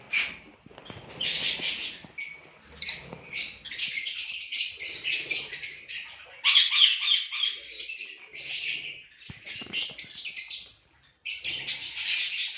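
A newly hatched lovebird chick in an aviary chirps close by in rapid, high-pitched bursts, calling almost continuously with short breaks and a brief pause near the end.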